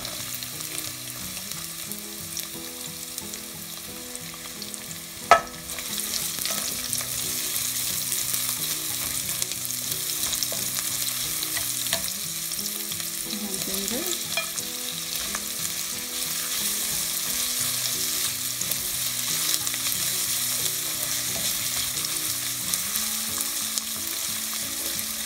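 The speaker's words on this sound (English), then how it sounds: "we'll saute the garlic first" Garlic, shallot and onion sauté in a pan, heard as a steady close sizzle and fry lasting throughout, with one sharp clink of a utensil early on and occasional faint stirring, without any voices.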